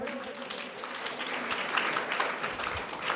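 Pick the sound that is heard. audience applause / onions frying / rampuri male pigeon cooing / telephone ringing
audience applause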